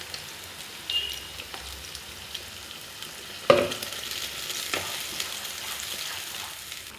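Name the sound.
ground masala paste added to browned onions, frying and sizzling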